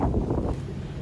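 Wind buffets a microphone outdoors on a cold day in Toronto, a steady low rumbling roar with gusty swells, loud and close, no voices.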